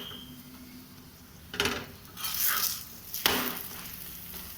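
Aloo paratha fries in ghee on a hot pan, giving soft, intermittent sizzling bursts that swell and fade alongside faint clinks of a utensil against the pan.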